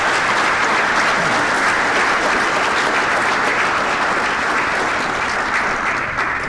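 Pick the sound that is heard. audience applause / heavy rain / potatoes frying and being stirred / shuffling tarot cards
audience applause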